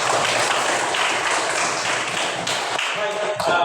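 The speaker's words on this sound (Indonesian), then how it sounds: "Oke, tepuk tangan dulu." A class of schoolchildren clapping hands together: a dense, loud, sustained patter of many claps that thins toward the end, with voices mixed in.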